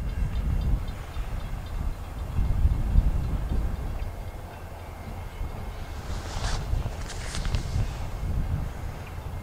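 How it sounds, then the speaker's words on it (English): Freight train rolling past outdoors, a low continuous rumble with wind buffeting the microphone and a few higher metallic squeals and clacks toward the end, no voices. "We've got a train."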